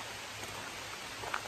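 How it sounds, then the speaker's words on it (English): Steady rain falls in the woods on a hike in Marion County, West Virginia, making a soft, even patter with a few faint nearer drops, and no one speaks. "I know it's raining"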